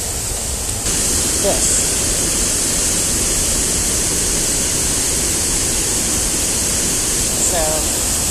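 Water rushing over the Roswell Mill dam, a loud, steady broadband roar heard close, with a brief faint voice in the middle.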